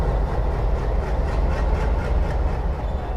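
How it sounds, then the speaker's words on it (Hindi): WDM3 diesel locomotive of Indian Railways on a Gorakhpur–Deoghar Express, a steady loud rumble of engine and rolling wagons with faint rail clatter, continuous and close, no voices. "WDM3 है, WDM3 है। अब तो डीजल लोकोमोटिव बहुत कम ही दिखने को मिलता है।"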